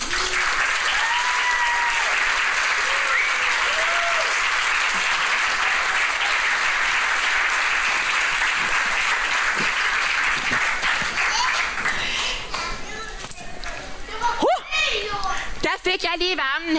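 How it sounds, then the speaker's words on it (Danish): Congregation applauding a puppeteer after a children's puppet show during a harvest church service, a long sustained wave of clapping that thins out near the end as children's voices and a few scattered sounds break through. "I må gerne klappe min dukkefører"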